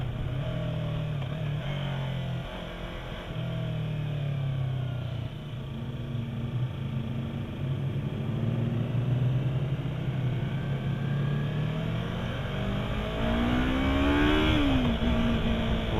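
A 2015 Yamaha R3 320cc motorcycle engine revs hard at high RPM, a loud, close, continuous drone that rises and falls in pitch through gear changes and climbs sharply near the end.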